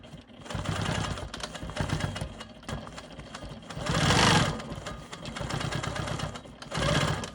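A sewing machine quilts straight lines on an eccentric star block, running in several steady whirring bursts with brief pauses between, close and loud, with no talk.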